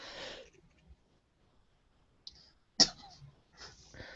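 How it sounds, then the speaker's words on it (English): A single sharp cough bursts out nearby after a brief quiet, with some breathy throat noises and sniffs around it. "After I cough."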